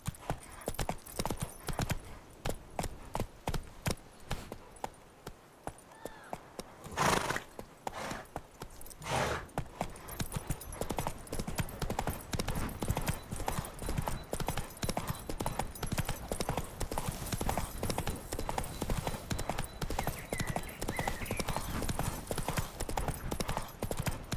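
Horse galloping in The Witcher 3 video game, rapid continuous hoofbeats drumming steadily for over twenty seconds at moderate volume, with a couple of brief louder thumps partway through.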